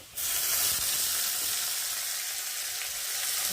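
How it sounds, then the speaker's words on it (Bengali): Sliced snake gourd (chichinga), salted and turmeric-coated, frying in a pan with a steady, loud, close sizzle that starts abruptly and continues evenly without talk. "আর এখন আমি চিচিঙ্গাগুলোকে ভেজে দেবো।"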